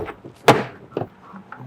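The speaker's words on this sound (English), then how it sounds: "install those clips, pushing them into their openings in the door shell" Plastic clips pushed into the door shell of a 1987-1993 Dodge Dakota, a few sharp close snaps and thuds spaced irregularly, with a louder knock early on.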